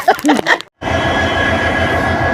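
A railway train engine rumbles loud and steady with a faint high whine, starting right after a short burst of voice and then running alone without a break.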